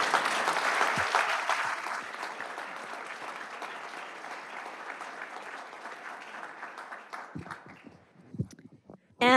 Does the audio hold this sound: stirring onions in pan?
no